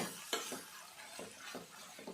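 Beef roast being stirred with masala in a pan, a few separate scraping strokes over a steady soft sizzle of frying, close and fairly quiet, with no talking.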